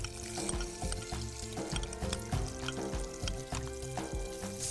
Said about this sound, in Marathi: फक्त कांदा थोडासा परतून घेतला